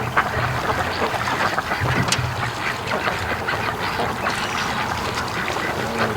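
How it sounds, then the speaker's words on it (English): Ducks on a lake quack in scattered, moderately close calls over a steady background wash, with no talking. "Ducks are definitely being lake ducks now."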